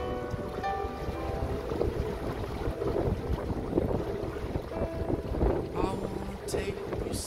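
A sailboat motors out of a bay off southeastern Corsica toward Bonifacio, with a steady engine drone and water wash under gusting wind noise, and faint voices in the background.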